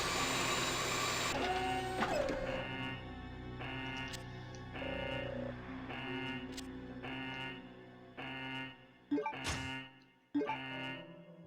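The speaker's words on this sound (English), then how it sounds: "This is a 3D printer" A 3D printer in the Resident Evil Code Veronica video game whirs and clicks through a mechanical cycle, with repeated motor buzzes in even bursts, sharp clunks near the end, and no talk.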